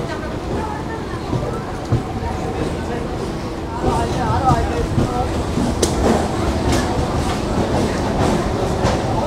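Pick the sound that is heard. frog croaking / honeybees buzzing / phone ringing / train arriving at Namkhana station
train arriving at Namkhana station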